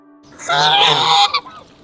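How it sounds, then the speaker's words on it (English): Geese honking by a lake in a park, heard during a carp fishing session: a loud burst of overlapping honks lasting about a second, then a short trailing call, with no voices. "Oh, and the geese."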